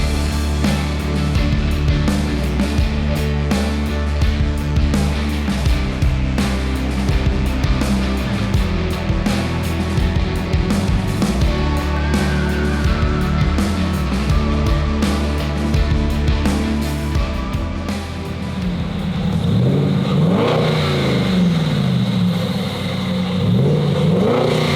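A 1716-horsepower Coyote-powered four-wheel-drive Ford F-150 truck roars loud and close on a dyno, holding a sustained high-rev pull for most of the stretch before easing off and idling down near the end.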